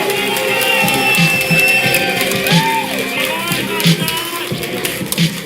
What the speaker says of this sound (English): One more time, ladies and gentlemen, round of applause.